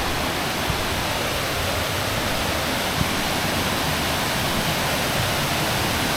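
Drummoney waterfall in County Fermanagh pours in a steady, full rushing hiss, loud and continuous with no other sounds standing out.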